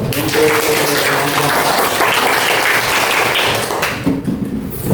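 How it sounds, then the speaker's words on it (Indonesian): Sustained applause from an audience at a gathering fills the room loudly and evenly, then thins and fades toward the end. "kita kasih tepuk tangan dulu"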